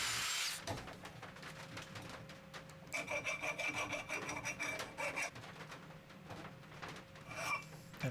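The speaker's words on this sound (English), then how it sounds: "And file those flat" A hand file rasps across an aluminum block to flatten it, giving close repeated scraping strokes in an uneven rhythm that grow harsher and brighter partway through, with no voices.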